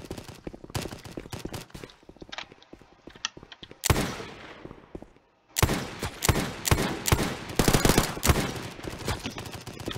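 Roblox gun-testing gameplay fires a classic revolver, dense bursts of sharp synthetic gunshots in rapid clusters, one loud blast followed by a short near-silent gap, then continued heavy firing.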